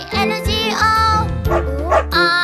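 A sung children's Bingo nursery rhyme in which a voice imitates a dog's bow-wow barking, several melodic woof sounds in a row, loud and close with musical backing.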